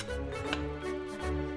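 A knife cuts through hot roasted butternut pumpkin in a home kitchen, with a few close, dull chopping strokes over a steady background hum and no talking.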